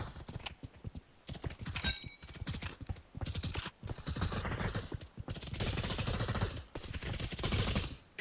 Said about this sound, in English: Supersized M1 Garand.